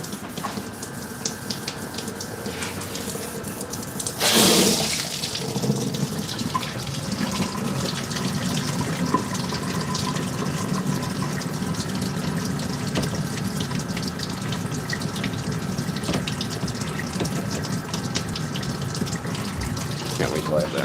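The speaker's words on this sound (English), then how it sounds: "I got a sprayer." Hose sprayer hissing steadily as water fills a fish tank in a fish room, a continuous spray with a brief louder burst early on and faint background hum throughout.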